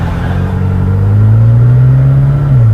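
A McLaren GT engine revs loudly while accelerating in automatic mode, a steady close rumble that climbs in pitch and holds before dipping slightly, with no voices.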